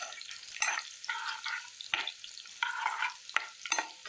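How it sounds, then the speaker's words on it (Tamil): Crushed garlic frying in hot oil for onion thokku, stirred with a spoon in quick scraping strokes over a steady close sizzle, with no talk. "சேர்த்துட்டு இதை நல்லா வறுத்து விடுங்க."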